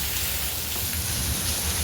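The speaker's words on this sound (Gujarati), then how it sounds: "એટલો જોરદાર વરસાદ છે." Heavy rain pours down outside a flooding home during an unseasonal storm, a dense, steady hiss of rain on surfaces that fills the clip with no voices.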